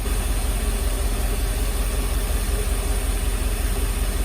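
Mercedes SL500 engine idling with the fuel pressure regulator connected, a steady continuous low rumble and broadband hum at close range, with no talk over it.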